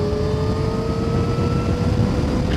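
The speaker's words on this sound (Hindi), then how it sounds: "एक बार मैं आपको सुनाता हूँ मोटर और चेन की साउंड" An Ola Roadster X+ electric motorcycle running, its motor whine mixed with drive chain noise, a steady rising tonal hum over a dense rumble, close and loud.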